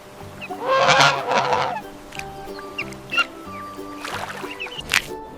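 Several loud goose honks in quick bursts, harsh nasal calls repeating close up with short gaps between them on a farm.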